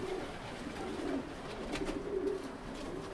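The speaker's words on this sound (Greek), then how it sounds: "Και δεν είναι και τυχαία περιστέρια." Pigeons coo softly in a rooftop loft in Thessaloniki, with several low, repeated throaty calls over a quiet background and no talking.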